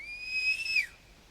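A bird call whistle blown in The Hunter Classic hunting game, a single clear high-pitched steady whistle tone lasting under a second that slides slightly and cuts off, heard alone.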